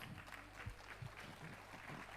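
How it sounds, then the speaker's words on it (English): Audience applause at the Miss Shillong 2025 beauty pageant, a steady wash of clapping from a crowd filling the hall, fairly quiet and continuous throughout. "with a round of applause"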